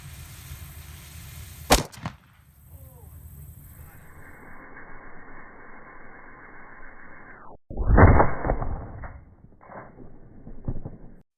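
An early black-powder gun, packed with wadding and loaded with river rock, fires with a sudden sharp report. A heavier booming burst follows several seconds later over low background hum.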